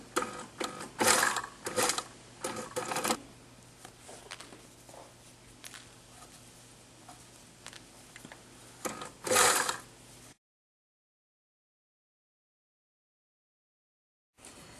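A sewing machine stitches a reversible skirt, running in short bursts with a quick mechanical clatter, pausing and restarting for a backstitch, then falling silent after a final loud burst before a brief return at the end.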